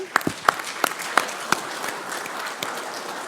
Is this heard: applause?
yes